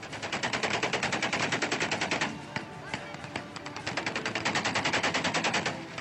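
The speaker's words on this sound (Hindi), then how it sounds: "भारत में ऐसे मौकों पर अक्सर 1-2 राउंड फायरिंग होती है" Rapid bursts of celebratory gunfire at an Indian wedding, loud and close, firing in fast repeated volleys with a brief pause in the middle before another long string of shots.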